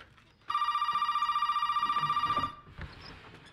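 An in-game telephone in Resident Evil 7 rings with a steady, loud electronic trill for about two seconds, then cuts off, leaving quiet room ambience and a faint rustle.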